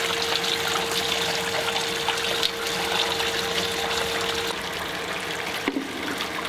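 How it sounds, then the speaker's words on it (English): Wort recirculates gently over a grain bed during all-grain beer brewing, a steady close trickle and pump hum with a faint tone throughout, no voices. "I'm just going to recirculate this nice and gently over the top so that it doesn't disturb the grain bed"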